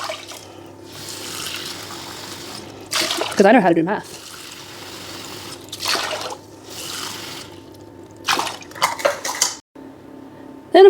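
Water runs into a cooking pot for 2 cups of rice, a trickling pour in short bursts separated by pauses, with a person talking between the pours.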